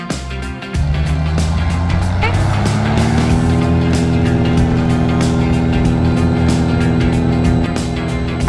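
Cessna 182 light aircraft engine on its takeoff roll at Paradise Beach, a steady loud droning hum that rises sharply as power comes up and then holds at full throttle, with faint cockpit chatter.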